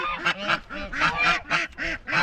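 Geese honking on a farm, with ducks nearby, a series of loud, close, repeated nasal honks in quick rhythmic bursts, with no talking.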